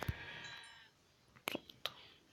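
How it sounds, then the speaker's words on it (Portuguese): A sheep bleats in World of Warcraft: a quavering bleat opens the clip, followed by a quiet gap and a few short sharp effect clicks near the end, with no talk. "A última ovelha nossa."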